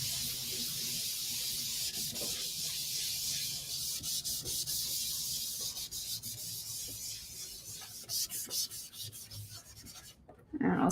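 A scrubber block with Ultra Clean cleaner rubs back and forth in a steady, close, gritty scrubbing rhythm and stops near the end.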